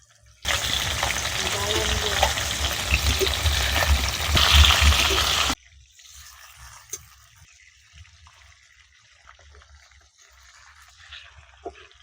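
A piece of hilsa fish fries in hot oil with a loud, dense sizzle and crackle for about five seconds. The sound then cuts off abruptly, leaving a quiet room with faint clinks.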